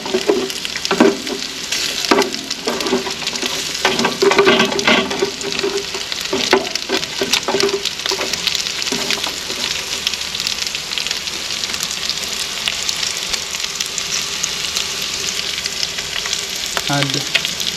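Onions frying alongside crispy bacon in a pan outdoors, a steady loud sizzle and crackle running throughout with occasional stirring clinks, no talk.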